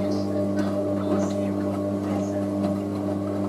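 A steady mechanical hum with a low drone and faint rattling from a Hotpoint Aquarius WM63 washing machine on an intermediate spin during a boil wash, continuous throughout at moderate volume.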